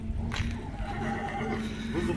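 Horses at a rural stable, one neighing in a loud, rising whinny that carries through the short span over a steady background, with faint hoof shuffling.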